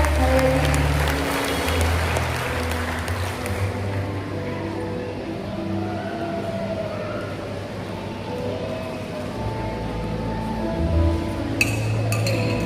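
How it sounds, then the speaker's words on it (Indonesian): Applause from an audience at a Christmas celebration in a large hall, sustained clapping that fades gradually, with faint clinks of glass or dishes and low background music underneath. "Beri tepuk tangan Bapak Ibu sekalian."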